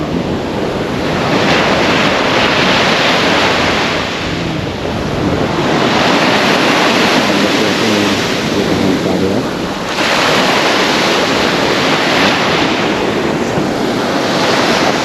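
Loud sea waves roll and break continuously on a beach, close by, with heavy wind buffeting the microphone and a faint voice barely audible beneath the surf.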